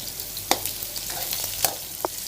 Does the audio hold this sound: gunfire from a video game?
no